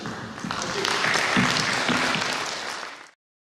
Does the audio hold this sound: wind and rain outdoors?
no